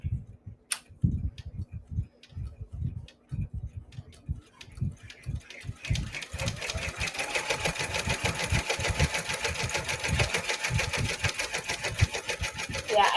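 Embroidery machine stitching a bag strap: after a few seconds of sparse low clicks and thumps, a steady close, loud rapid mechanical chatter of needle strokes runs on without pause to the end.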